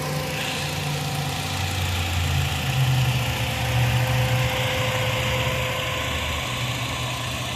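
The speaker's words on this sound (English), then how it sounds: "So this comes with 2-liter engine, no turbo or anything, standard 2 liters." A 2018 Toyota C-HR's 2-liter non-turbo engine idles with a steady, even hum and a low rumbling drone, close and constant throughout with no talking.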